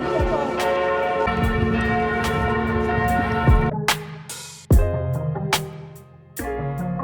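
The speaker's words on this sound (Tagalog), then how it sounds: "Naririnig niyo yung bell?" Church bells ring loudly in Paris, rich pealing tones with overlapping strikes and a long ringing decay, on and on with brief pauses.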